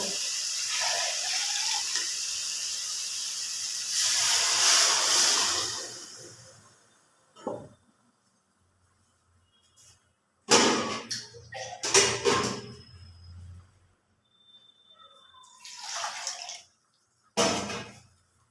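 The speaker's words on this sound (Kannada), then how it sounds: "ನಾನು ಒಂದೂವರೆ ಚಮ್ ನೀರು ಹಾಕಿದ್ದೀನಿ" Water is poured into chicken masala frying in a pan for a chicken curry, in several close splashing, gushing pours separated by quiet pauses.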